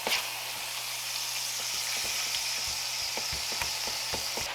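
Ground meat frying in a hot pan with turmeric, salt, black pepper, cumin and garlic, a steady close sizzle with occasional light crackles and stirring clicks throughout.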